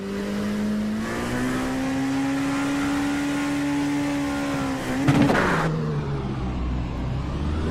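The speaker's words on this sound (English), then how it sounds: "Listen to the difference in the engines here." An LMP2 prototype race car engine in the iRacing simulator at Road America in the wet drones loud and close, its pitch climbing steadily before a sharp burst around a gear change and a drop in tone afterward.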